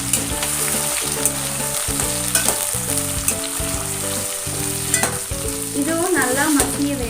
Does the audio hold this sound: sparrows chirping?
no